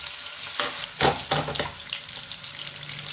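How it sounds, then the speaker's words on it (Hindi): Potato pieces fry in a pan until golden brown for dum aloo, giving a steady sizzle broken by a few sharp stirring scrapes and clatters early on. "आलू को गोल्डन ब्राउन होला जाय भाजिबे"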